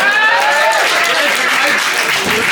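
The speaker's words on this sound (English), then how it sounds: "Give a big round of applause for the fucking bar staff" An audience at a live event applauds and cheers the bar staff, a dense, loud and continuous roar of clapping with a speaker's voice raised over it.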